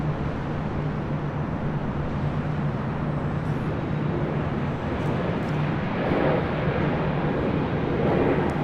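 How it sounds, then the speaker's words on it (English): Steady broadband roar of an Air France Boeing 777-300ER airliner arriving on the north side at LAX, a continuous loud engine rumble with a low hum throughout and slight swells near the end, no voices. "Air France Flight 72 coming in from Paris. 777-300ER is our next arrival here on the north side."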